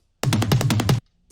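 A drum fill from a Logic Drummer layer: a rapid run of about seven evenly spaced, punchy hits lasting under a second, loud and alone, then a faint trailing tap.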